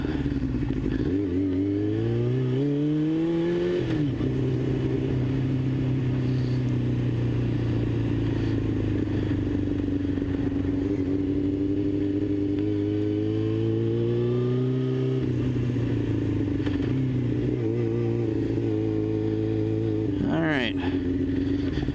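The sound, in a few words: Yamaha R6 motorcycle engine revving and backfiring downhill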